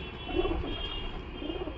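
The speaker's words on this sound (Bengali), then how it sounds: "এই হলো পিজন বা পায়রাটি" A large Giribaz pigeon coos close by, a couple of soft, low throaty coos rising and fading over a quiet background.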